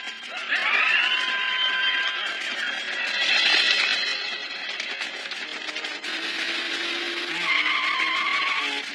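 Tires squeal and skid as an anime car takes off in a chase, a loud sustained screech with engine noise that rises and falls over several seconds.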